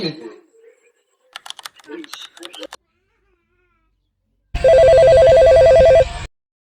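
Soft clicking and tapping come first, then a loud electronic telephone ring trills steadily for about two seconds before cutting off.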